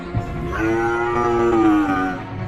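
A single drawn-out moo from a tethered cow in a cartoon, steady and fairly loud, rising and holding before tapering off.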